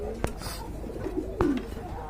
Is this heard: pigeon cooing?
yes